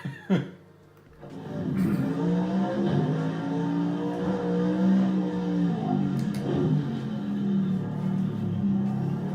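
Race car in Project Cars 2 braking hard into turn one, its loud engine note shifting and dropping in pitch as it slows for the corner, continuous and close, with no talk over it.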